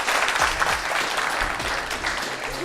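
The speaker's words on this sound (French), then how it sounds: "On applaudit très fort pour nous tous." An audience in Brazzaville applauds loudly at a promotional prize-giving event, with dense, continuous clapping close by and a faint voice briefly audible underneath.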